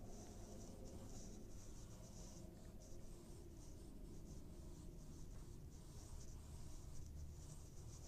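A pencil sketches lightly across paper, outlining three stones in a steady, continuous scratchy rub that runs close and even throughout without pauses.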